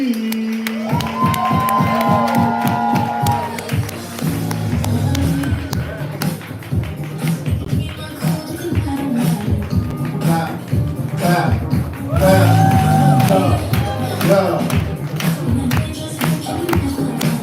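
A live poetry-slam audience cheers, whoops and claps for the next poet, the crowd noise loud and rolling throughout, with an amplified host's voice calling out over it.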